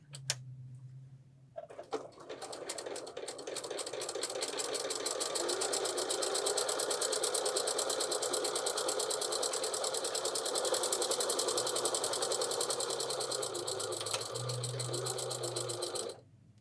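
A sewing machine runs a continuous stitching burst, close and steady, sewing a quarter-inch seam on a fabric panel table runner, starting on a leader scrap of fabric, with brief pauses at the start and end.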